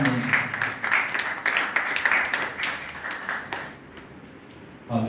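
Church congregation at a Mother's Day service clapping enthusiastically, a close, crisp flurry of applause that holds steady for several seconds, then thins and fades to a few scattered claps.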